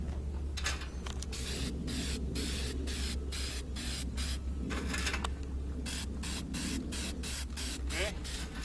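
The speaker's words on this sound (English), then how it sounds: "I'm going to spray it with some flat black spray paint to dull it" Flat black spray paint hisses from an aerosol can onto a metal live-catch bird trap outdoors, in a long steady spray broken by short pauses, fairly close, with a low steady hum beneath.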